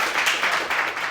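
Audience applause at an awards ceremony, a steady wash of clapping hands from a crowd that stays even and fairly full throughout the brief moment, with no voices over it.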